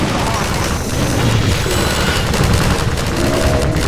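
Loud, dense gunfire in Half-Life 2 Episode Two, continuous rapid shots and booms in a close firefight, with voices mixed underneath.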